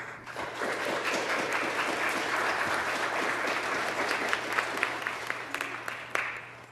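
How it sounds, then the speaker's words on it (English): A ceremony audience at a 2023 scholarship awards event gives scholarship donors a dense, steady round of applause lasting several seconds, with a faint low hum underneath and the clapping thinning toward the end. "So if you can give them a round of applause"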